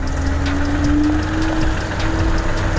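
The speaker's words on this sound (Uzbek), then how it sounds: "motorlarning ovozini qarang" Car engine idling with a steady low hum and a faint whine, close and constant, no talk.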